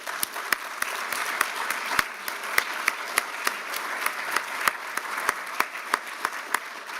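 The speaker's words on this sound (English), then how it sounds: "we should all applaud you and applaud your family" Applause at a nursing graduate school awards and scholarship celebration, heard as sparse, fairly regular individual claps from a small group rather than a dense crowd roar, moderately loud throughout.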